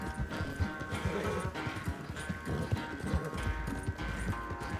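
Galloping horse in a Red Dead Redemption 2 race, steady rapid hoofbeats pounding close and loud throughout, mixed with game music and background effects.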